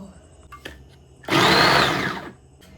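An electric kitchen chopper chopping ginger and garlic whirs in one loud burst of about a second after a few faint clicks, under and between speech.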